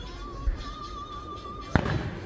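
Fireworks burst over the trees in a yard or large park, heard from a distance as a soft thump followed by a sharper single bang, with a faint steady tone in the background.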